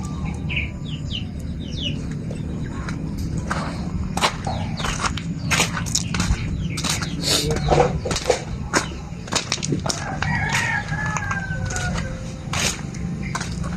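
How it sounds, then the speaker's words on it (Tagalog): Birds chirp and tweet outdoors among scattered chicken clucking and rustling, with faint footsteps and background ambience throughout; no clear speech. "Tapos ko lang pinakain tong mga manok."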